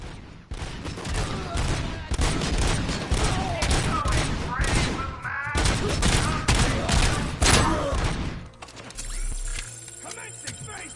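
Rapid bursts of Cobra cannon gunfire in the video game RoboCop: Rogue City, loud heavy shots in quick runs over game voices and music, ending in a quieter stretch with a low tone.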